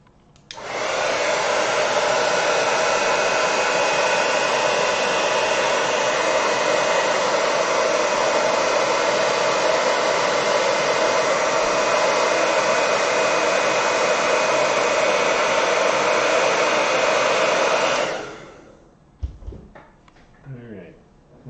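A hair dryer blows on watercolor paint in a loud, steady roar that holds for about seventeen seconds and then cuts off, followed by a few soft knocks and handling sounds.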